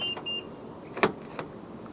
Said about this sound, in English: To lock the car, press the black button on any of the front door handles.